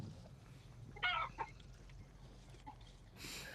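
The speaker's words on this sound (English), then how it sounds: "because at least I can feed chickens" Chickens cluck in a pen, a few brief, fairly faint calls over a quiet low hum of background noise.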